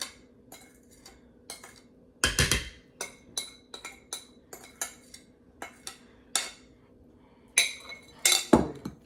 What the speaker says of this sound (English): making sure I get all the sweetened condensed milk that's like kind of stuck to the bottom of